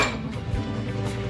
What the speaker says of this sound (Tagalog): magbugas muna tayo ng pinggan